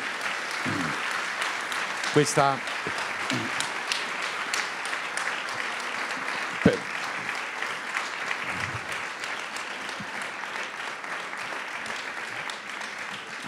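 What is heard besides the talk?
big round of applause for Mario Tozzi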